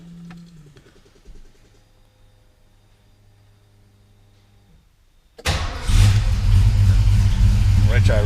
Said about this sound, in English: we can start the car